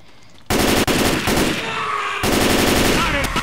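Sustained automatic gunfire in the zombie shooter Left 4 Dead, a loud close burst of rapid shots that starts abruptly, breaks briefly, then resumes with continued heavy firing and game noise.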